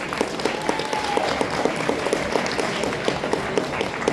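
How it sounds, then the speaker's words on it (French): An audience claps hard and continuously at a convention costume and roleplay contest, the dense applause filling the whole four seconds without any speech. "On applaudit très très fort Terracia"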